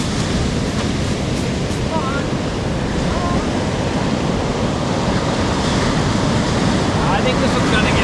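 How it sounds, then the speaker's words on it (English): Pacific Ocean surf on the Washington coast rolls in a loud, continuous roar up close, with heavy wind buffeting the microphone and a few faint voices beneath. "So we're now made it to the Pacific Ocean here in the state of Washington."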